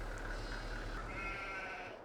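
Sheep bleating in the farming video game Farming Simulator 22, a single drawn-out wavering bleat at moderate distance over a low steady background hum.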